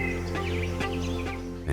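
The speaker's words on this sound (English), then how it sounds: "birds calling" Birds call with short chirps and warbles over a steady low hum of forest ambience, moderately faint and continuous.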